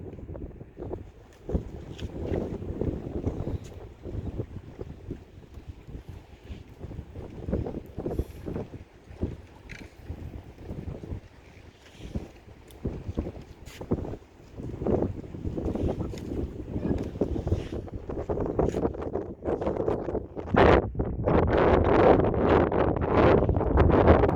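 Breeze gusting across the microphone while fishing from a boat, uneven rumbling buffets that come and go and build stronger and louder toward the end, with no talking.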